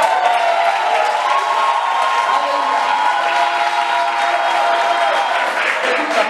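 A church congregation at a youth event claps and cheers loudly and continuously, a dense wash of applause with scattered shouts and whoops.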